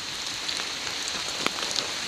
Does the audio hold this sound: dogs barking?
no